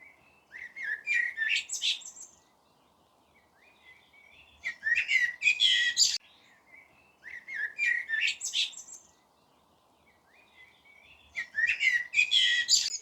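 A blackbird sings outdoors in four distinct phrases of fluting, warbling notes separated by pauses of a few seconds, moderately close and clear against a quiet background.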